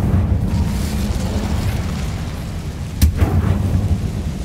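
An Incendio fire spell cast in Hogwarts Legacy roars as a steady low rumble, with one sharp burst flaring up partway through before the roar carries on.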